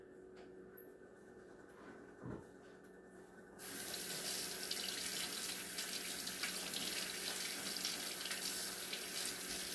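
Kitchen sink tap turns on with a sudden rush of running water over green onions, steady and fairly loud after a few seconds of quiet room noise and a soft bump, continuing to the end without speech.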